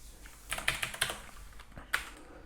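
Computer keyboard keys are pressed several times in an uneven sequence of crisp clicks, close and fairly clear against a quiet background.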